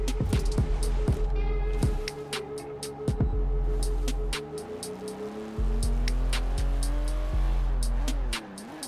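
A TVR Cerbera GT1 in Forza Horizon 4 accelerating hard in gear, its loud engine revving up in rising sweeps broken by sharp gear-change drops, several shifts in quick succession.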